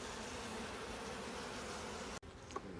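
Honey bees at an open beehive during an inspection, a steady dense hum filling the clip before cutting off abruptly near the end, followed by a faint brief sound.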